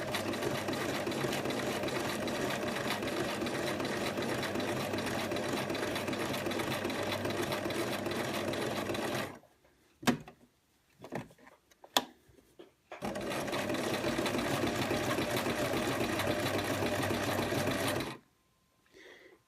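A sewing machine stitches fabric around the edge of a sugar skull pincushion, a steady loud whir running several seconds, a pause with faint handling clicks, then another long stitching run before stopping.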